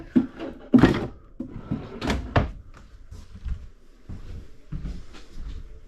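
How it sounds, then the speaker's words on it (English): Doors and soft-close drawers shutting inside a 2026 Flagstaff Microlite 25MBR travel trailer, a close series of soft thumps, clicks and knocks coming one after another at an irregular pace. "make sure all doors and drawers are closed"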